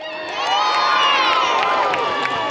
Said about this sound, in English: Will you cheer for the Wyvern? They say, ole! Cheer them on!